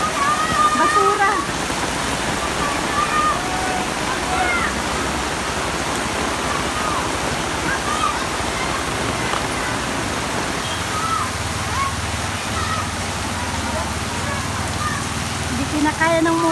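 Heavy typhoon rain and rushing floodwater roar steadily at close range, with a motorbike engine straining against the flood and voices calling out over the din.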